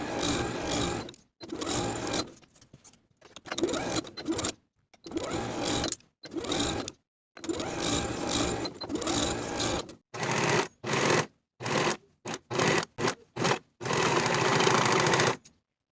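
A sewing machine stitches the crotch seam of elastic-waist culottes with a half-inch seam allowance. It runs in a series of loud, close bursts of rapid needle clatter separated by short silences, and the bursts grow quicker and choppier toward the end.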